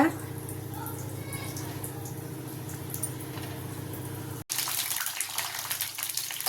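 Green chilies fry in about two spoons of hot oil while being turned side to side for mirchi ka salan, making a steady close hiss that breaks off briefly, then returns a little brighter.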